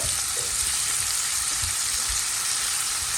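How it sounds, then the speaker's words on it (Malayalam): Fried rice sizzles loudly and steadily in a hot pan as soy sauce goes in, a continuous close crackle and hiss with faint stirring underneath. "ഇതിനകത്തോട്ട് സോയാ സോസ് ആഡ് ചെയ്യുക."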